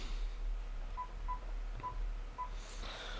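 Keypad tones of a telephone being dialed: four evenly spaced short beeps, moderately quiet, over a steady low hum with no talking.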